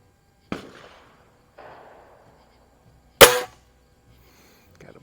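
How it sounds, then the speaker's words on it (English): Shotgun blasts from trap shooting at a range, a few separate sharp bangs spaced apart, one much louder and nearer than the rest, with quiet in between. "a bunch of guys over doing some trap shooting"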